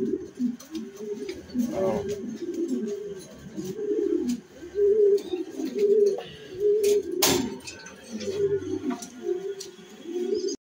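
Racing pigeons coo in repeated soft, throaty phrases from a loft, close and steady throughout, with a person talking intermittently over the birds.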